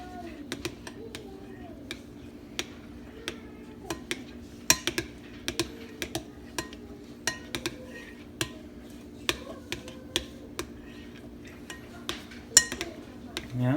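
Gentle stirring of a vegan, gluten-free ice cream base with pudding folded in, a utensil lightly clinking against a bowl in scattered taps over a steady low room hum, with no talk.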